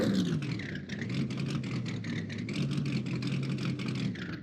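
Race car engine in the NASCAR Racing 2003 video game at Daytona, a steady whirring drone with a rising and falling pitch sweep, heard continuously and alone.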